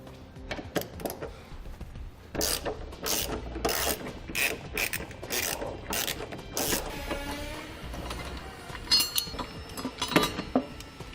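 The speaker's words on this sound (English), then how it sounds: "We'll do that by using a 17mm socket." Ratchet with a 17mm socket loosening a tie-down bracket on a 2015 Toyota RAV4, giving repeated bursts of rapid clicking pawl sounds with short pauses and metallic clinks, close and fairly loud.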